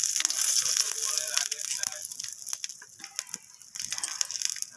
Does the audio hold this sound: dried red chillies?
yes